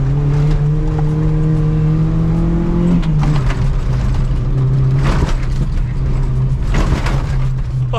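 A Suzuki Jimny Katana engine accelerates with a loud, steady drone heard from inside the cabin. The pitch climbs, dips briefly at a gear change, then holds and builds again, with faint interior rattles underneath.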